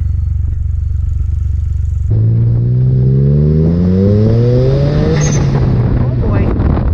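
A Chinese dune buggy's turbocharged Mitsubishi 3A92 engine idles with a low drone, then is loudly revved, the pitch climbing steadily as the turbo spools up before easing off, close and dominant.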